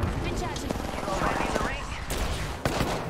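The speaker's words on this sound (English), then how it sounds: "I'm getting shot at." Rapid gunfire in a shooter video game, dense bursts of shots rattling close and loud throughout, with players talking over the shooting.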